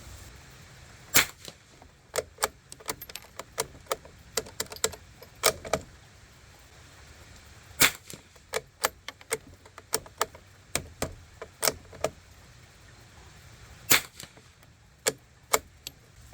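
Suppressed shots from a Savage MKII or Norinco JW-15 rifle firing CCI subsonic ammunition outdoors: many short sharp cracks in irregular bursts, some rapid strings and some spaced seconds apart, over faint rain-like background noise.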